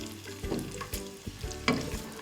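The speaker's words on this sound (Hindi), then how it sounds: "अब एक बर्तन में घी गरम करें और इसमें 1 से 2 अदद कटे हुए प्याज शामिल करें" Chopped onions fry in hot ghee in a cooking pot, a close steady sizzle broken by spoon stirring and scraping knocks.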